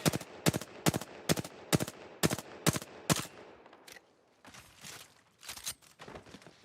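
Apex Legends gunfire, a rapid string of about a dozen sharp, loud shots in an even rhythm, followed by a quieter gap and a few scattered bursts and clatter.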